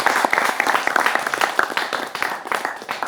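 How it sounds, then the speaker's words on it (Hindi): Studio audience at a Hindi television talk show on cyber crime claps steadily, a dense sustained patter of many hands filling the room throughout, with no voices over it. "तालियां बजा सकते हैं अपने लिए"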